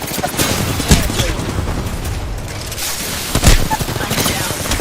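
Dense, continuous video-game gunfire crackles through the whole stretch, with a couple of louder bursts standing out against a steady barrage of shots and blasts.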